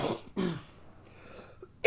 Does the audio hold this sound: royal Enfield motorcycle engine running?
no